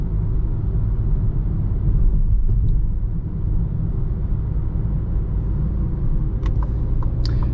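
A 2021 Citroen C4 Shine's engine hums as a steady low rumble from inside the cabin while driving at night, with a few faint clicks near the end.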